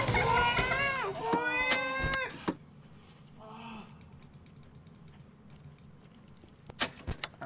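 Soft, rapid keyboard-like clicks tick through a FNAF fan video game, faint and scattered, first masked by excited, loud voices and then heard more alone near the end with a few sharper knocks.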